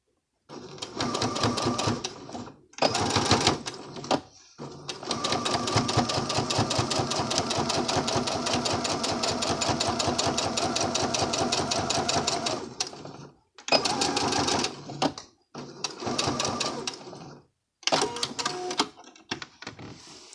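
Sewing machine stitching a scallop waist skirt in several bursts, one long steady run in the middle and shorter runs around it, close and clear with brief pauses between.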